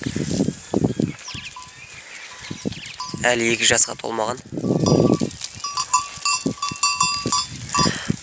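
A billy goat named Kostya, under two years old and wearing a neck bell, leads a sheep flock, with close, repeated bleats among the animals while a person talks over them.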